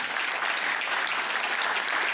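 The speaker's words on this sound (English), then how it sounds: "You can give him a round of applause" Dense, steady applause from a forum audience welcoming a speaker, many hands clapping together at an even volume throughout with no voices over it.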